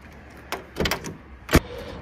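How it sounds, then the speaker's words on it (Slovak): Central locking actuator on a car's front passenger door clunks, giving a short click near the start, a double thump a quarter second later and one sharp, loud knock near the end, all close up with no talking. "Spolujazdcové dvere zamykať ide, odomykať ide."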